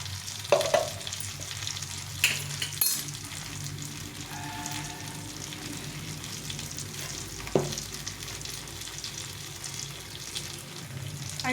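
Tomato chutney seasoned with salt and chili powder fries in a pan, a steady soft sizzle running throughout with a few louder stirring clatters, no voices.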